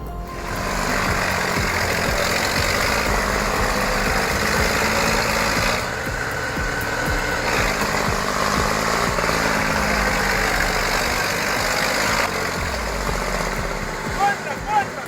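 An IMT 540 tractor engine laboring while stuck and sinking in deep mud, a steady loud rumbling drone that holds throughout with slight shifts in pitch and strain, with talking over it.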